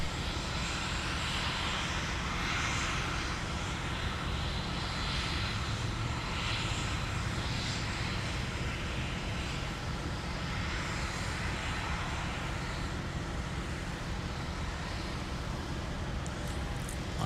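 An Embraer E175LR sits idling during winter de-icing at Minneapolis–St. Paul airport, its jet engines giving a steady, loud, continuous roar and whine that holds throughout.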